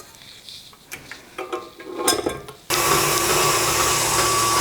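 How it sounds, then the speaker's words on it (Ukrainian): Electric mixer starts whipping egg whites with a pinch of salt for a cotton cheesecake: clinks and knocks of bowl and beaters first, then a loud steady high motor whir that holds to the end. "Збиваємо міксером білки з дрібкою солі."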